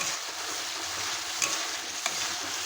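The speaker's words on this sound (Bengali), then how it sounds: "মশলার উপরে আমি হলুদ দিয়ে দিলাম, দিয়ে ভালো করে আমি কষিয়ে নেব" Masala with turmeric being stir-fried for gondhoraj chicken, making a soft, steady sizzle with two brief scraping stirs standing out.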